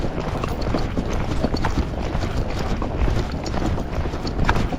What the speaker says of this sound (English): Now he's gaiting pretty well.